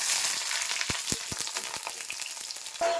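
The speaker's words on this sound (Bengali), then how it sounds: "তেল গরম হয়ে গেছে, আমি বেগুনগুলো ভেজে নিচ্ছি।" Brinjal slices fry in hot oil in a kadai, a loud crackling hiss close up with a series of quick pops and spatters, the sizzle swelling again near the end.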